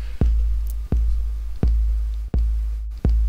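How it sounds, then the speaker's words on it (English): Programmed kick drum in Ableton Live, deep booming thumps alternating lighter and harder hits, five strikes at an even pace, close and alone. "So you can hear the kick. The first kick is gonna be a bit lighter"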